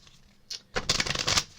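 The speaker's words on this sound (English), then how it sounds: "Please excuse the loud shuffling." Tarot cards being shuffled loudly, a dense riffling burst that starts after a brief quiet lead-in and runs for under a second, close and alone with no talk.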